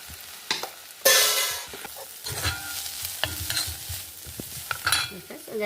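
Potatoes and fenugreek leaves sizzle in a pan for aloo methi dry curry, with irregular scraping stirs and clinks of the spoon over a steady close frying hiss.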